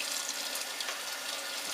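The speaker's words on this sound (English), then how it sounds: "I just run hot water over it" Hot water runs from a tap over metal Mosin Nagant rifle parts coated in cosmoline, a steady, fairly faint hiss and splash that continues without a break.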